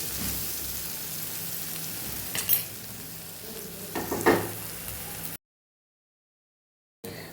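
Onion khariya cooking with sugar in a pan, a steady soft sizzle with a few stirring scrapes, then a brief silent gap before the sizzle resumes.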